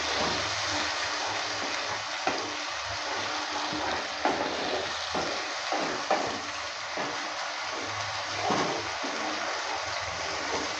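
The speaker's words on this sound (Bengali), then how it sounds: "পেস্টটা ঢেলে দেওয়ার পর নেড়ে চেড়ে নিচ্ছি।" Ginger, tomato and chili paste fries in a pan while being stirred, giving a steady broadband sizzle with soft scraping pulses from the stirring throughout.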